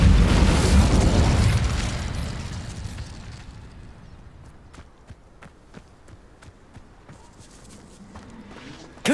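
An incendiary spell bursts in the video game Hogwarts Legacy with a loud booming blast that rumbles and fades over a few seconds, followed by scattered soft pops and footstep-like taps and a sharp knock at the very end.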